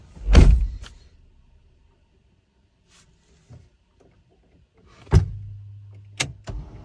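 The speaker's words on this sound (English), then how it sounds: "shut the door" A Porsche Macan car door thuds shut nearby, followed by a few quieter clicks and knocks, then another solid door slam with a short mechanical hum.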